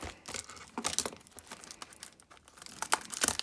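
Plastic wrap is crinkled and torn off a sealed Yu-Gi-Oh card box in short, close, irregular bursts of crackling, with no talking.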